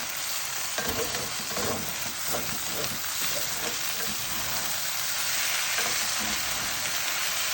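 Beef satay fried rice with peanut sauce being stir-fried and tossed in a pan, giving a steady loud sizzle with scraping and clattering toss sounds throughout, close up and without talk.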